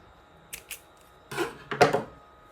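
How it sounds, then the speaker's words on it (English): Scissors snip yarn close by in a few quick, crisp cuts: two small light clicks, then a louder cluster of snipping sounds over a quiet background. "Now cut off your yarn"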